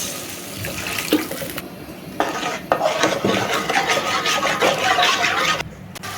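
Water is poured into a pan while curry leaf thokku is cooked, a close splashing stream with clinks of a metal pot and utensil, with no talk over it.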